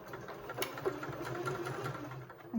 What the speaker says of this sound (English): I am just sewing right along the edge here